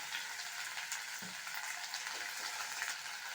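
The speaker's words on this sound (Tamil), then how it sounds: "எல்லாத்தையும் நல்லா எண்ணெயிலேயே வதக்கி வேக வச்சுருங்க" Poha ingredients sautéing in hot oil with a pinch of asafoetida, a steady soft sizzle with light stirring scrapes, close and alone with no talking.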